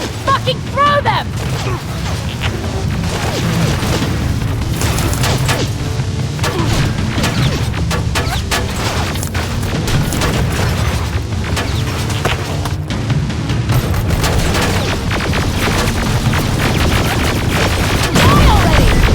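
Grenade explosions and heavy combat in the video game Terminator Resistance, with dense, continuous booms and crashes layered under loud game action and a shouting voice throughout.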